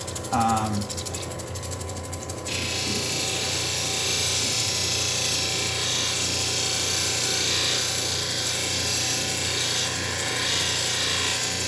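A lapidary grinding wheel runs steadily and loudly against an ebony and dinosaur bone stone inlay, a continuous whirring grind with a rattling edge that starts a little quieter and swells after a couple of seconds.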